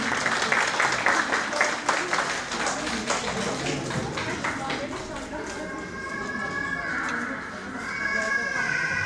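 Applause from parents at a primary school kindergarten Mother's Day show, greeting the school principal: dense clapping fills the first five seconds, then thins and fades into room murmur and a faint tonal sound.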